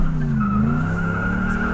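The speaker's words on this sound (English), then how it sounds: "Oh, it does burnouts, dude. It does burnouts good." A Camaro doing a burnout, its tires skidding and squealing in one steady, loud, continuous screech under the engine's drone, no talk over it.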